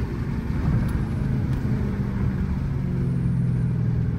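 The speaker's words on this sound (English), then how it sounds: "Big turbo diesel. You're pushing that bitch." Loud, steady low rumble of a BMW with a big turbo diesel engine pushing hard in a street race, with a continuous close engine drone throughout.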